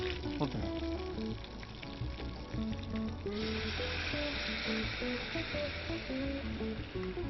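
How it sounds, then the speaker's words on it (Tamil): Tamarind water poured into a hot pan of frying tempering, the sizzle swelling into a loud hissing burst partway through, all under continuous background music. "புளி தண்ணி எடுத்து ஊற்றுங்க."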